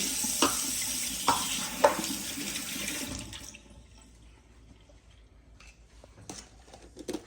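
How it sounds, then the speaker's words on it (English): Tap water runs steadily over fingers at a kitchen sink for about three seconds, then shuts off, leaving quiet handling sounds. "Rinse my fingers again."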